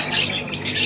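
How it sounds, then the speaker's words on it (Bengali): Caged cockatiels and doves calling at a bird exhibition centre, a few bright squawking calls in quick succession, close and fairly loud. "এবং পাখির ডাক শুনতে পাচ্ছেন।"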